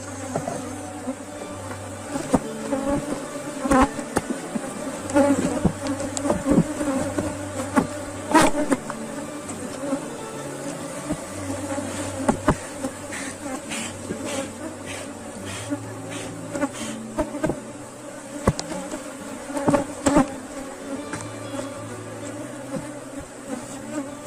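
A honeybee swarm buzzes densely inside a hive box during a transfer to a nucleus box, a steady, close and loud drone of many wings with individual bees flitting past, and no voices.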